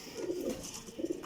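A champion flying pigeon coos close by in soft, low, burbling phrases, two short bursts of throaty murmuring with a faint pause between them.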